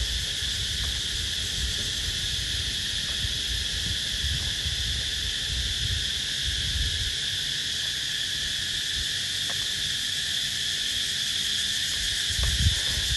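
Insects during the rainy season in Phuket, Thailand, shrilling in a loud steady chorus that never lets up, over a faint low background rumble, with no voices.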